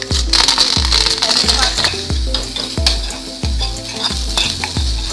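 Dals frying in hot oil for ravva pulihora, stirred in the pan: steady close sizzle and crackle with regular rhythmic scraping strokes of a spoon about every second, while a person talks over it.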